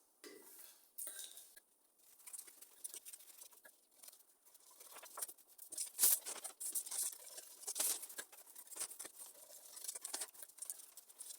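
Scissors snipping through corset fabric while an inbuilt corset with a basque waistline is cut out, a quiet run of soft crisp cuts and light rustling, close and alone with no talk.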